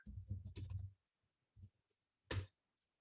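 A few quiet, close computer keyboard keystrokes clack in short irregular bursts during a robotics programming lesson, with silent gaps between them and no talking.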